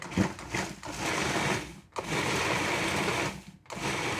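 A food processor pulses a blueberry oatmeal square mixture into a sandy crumb, with loud motor bursts that stop briefly near two and three and a half seconds, then start again.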